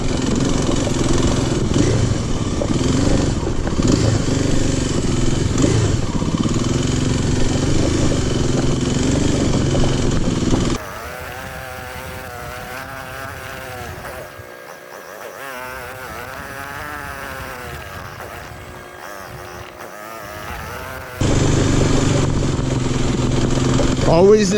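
Kawasaki KLX dirt bike riding on a rough trail, its engine droning and revving loudly and steadily, dropping to a quieter idle in the middle before surging back, with a rider's voice over it.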